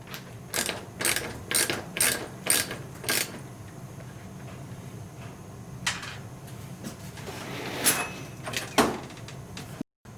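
A wheel is worked back off a Traxxas Xmaxx RC truck, giving close mechanical clicks and clacks. A rhythmic run of sharp snaps comes first, then a few scattered louder knocks.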